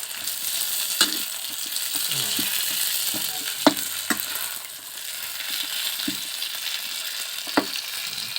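Pad thai with lamb stir-fried in oil over high heat, a steady bright sizzle throughout with occasional sharp clicks and scrapes of a spatula against the pan, close and without talk.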